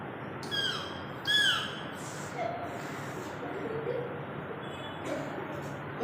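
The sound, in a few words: child imitating a parrot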